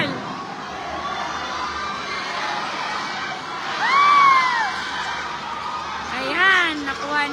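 Spectators close behind shout and cheer at a tied local basketball game between Davraa Off Campus and Monkayo All Star, a steady crowd din with sharp, high-pitched yells swelling twice, midway and near the end.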